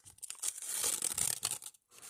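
A small plastic surprise packet is torn open close by, a run of sharp ripping and crinkling bursts lasting about two seconds, with no talking over it.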